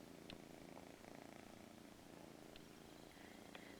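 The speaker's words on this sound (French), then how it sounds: "Elle ronronne." A pet cat purrs while curled up against a person, a very faint, steady low rumble with a continuous pulsing rhythm and no talk.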